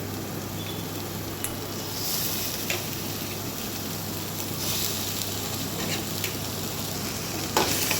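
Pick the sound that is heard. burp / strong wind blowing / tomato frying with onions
tomato frying with onions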